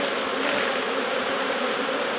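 Honey bees swarm around an open hive with the lid off during an inspection, a dense, steady, close buzz that fills the clip without pause and with no voices.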